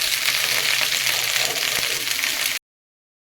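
Okra fries lightly in oil with steady, dense close sizzling for several seconds, then cuts to silence before resuming briefly.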